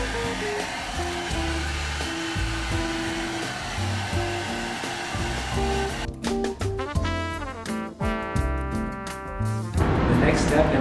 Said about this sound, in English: if you don't want to wait, you can use a hair dryer